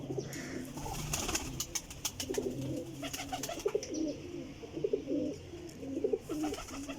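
Cooing from a flock of top-quality high-flying pigeons, soft repeated low calls in steady overlapping rhythm, close by, with a few sharper chirps and clicks mixed in and no talking.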